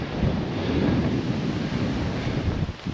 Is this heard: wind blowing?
yes